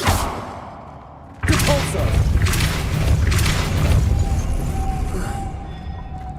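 A Depulso force spell in Hogwarts Legacy: an abrupt loud whooshing boom that cuts in after a quieter moment, then sustains as a rumbling thud and rush for several seconds before fading.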